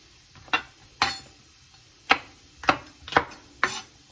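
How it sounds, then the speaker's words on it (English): A knife chopping green chilies and bell pepper on a cutting board, six distinct, crisp cuts spaced irregularly, close and fairly loud against a quiet kitchen background. "I'm going to cut up these chilies and these bell pepper and green chilies are going to get chopped up"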